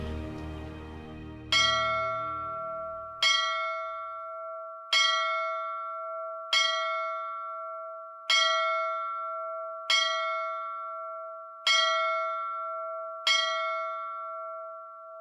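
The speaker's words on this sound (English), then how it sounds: "Strike 8 bells and haul down our colors." Ship's bell aboard the icebreaker Mackinaw rings eight times in a slow, even cadence, each strike clear and ringing out before the next, after a brief low rumble at the start.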